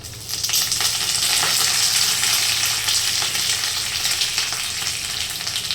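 Mustard seeds, garlic and curry leaves sizzling loudly in hot oil, a steady bright crackle with occasional pops and stirring, close up and without voices.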